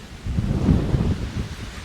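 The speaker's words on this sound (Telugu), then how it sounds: "ఎంత ఎండ ఉందో అంత విండ్ వస్తుంది గాలి" Heavy wind sweeps across a sunny hilltop at the Sri Kaliya Mardana Venugopala Swamy temple in Salihundam, Srikakulam, as a steady, loud, low buffeting roar against the microphone with no voices.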